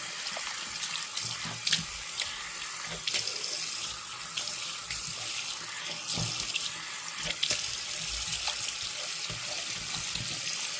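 Water runs steadily from a tap into an old sink being rinsed clean, a continuous close splashing stream with small shifts in tone as it hits the basin, with no talk over it.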